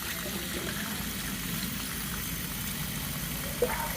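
Water rinses the mesh screen of a spin-down pre-filter from an outdoor point-of-entry filtration setup, producing a steady rushing spray under a low background hum, with a small knock near the end.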